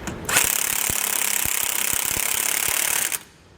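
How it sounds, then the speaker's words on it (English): Sway bar end link bolts on a 2015 Winnebago being tightened with a 15/16 socket and wrench, a steady mechanical ratcheting whir with irregular metallic clicks, close and continuous for about three seconds before stopping. "We can then go back and tighten down our end link bolts with a 15/16 socket and wrench."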